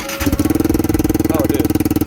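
A cold Lifan KP Mini 300 4V motorcycle with a ZS175FMN engine and an aftermarket 150 exhaust cranks and then catches. It settles into a loud, rapid, pulsing idle close by.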